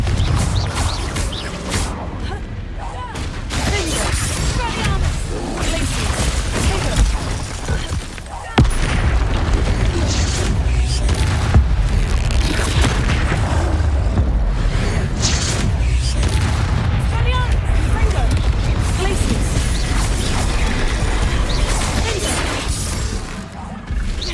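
Confringo fire-blast spell in the fantasy game Hogwarts Legacy, heard amid continuous loud combat noise: booming blasts, crashes and impacts, with a sharp explosive hit near the middle followed by sustained rumbling and clatter.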